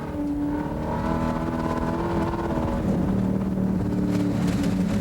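Street stock Ford Mustang race car climbing Pikes Peak, its engine droning steadily and loud throughout with shifting harmonic pitch as it accelerates, no voices over it.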